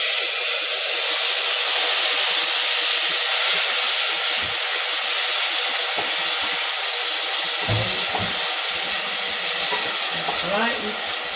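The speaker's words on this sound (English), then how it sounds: "So now I'm going to fry in my fresh tomato." Fresh tomato goes into hot oil in a pan with garlic, making a loud, dense, continuous hissing sizzle that stays close and steady throughout, with a few soft utensil knocks near the end.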